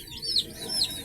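A White Kelso hen makes a few soft, short clucks close by, with light chirpy notes over faint background noise on a poultry farm.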